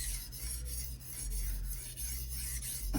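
A ZDP-189 core steel Bunka knife is pushed over a Suehiro 1000/6000 grit combination whetstone, giving close, quiet rasping strokes in an even rhythm, about one per second, with no talk.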